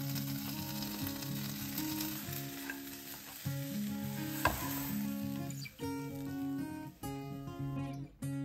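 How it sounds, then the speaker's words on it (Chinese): Breakfast food fries in a pan until golden and firm on both sides, a soft sizzle sitting under prominent background music with a few faint utensil clinks. "煎到兩邊都係金黃色同埋都硬咗嘅時候咧"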